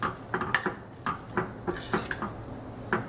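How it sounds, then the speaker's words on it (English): Wilted cabbage and Swiss chard being stirred in a pan, a quick run of utensil clinks and scrapes against the cookware at close range, repeated in short bursts. "Just mix it, make sure it goes everywhere."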